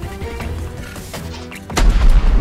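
A cannon fires in a video game, a loud booming blast near the end following a stretch of busy game sounds and music.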